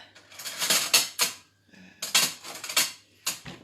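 A small bowl and a teaspoon are handled in a kitchen, giving several short clinks and rattles of ceramic and metal in brief bursts with quiet gaps between them.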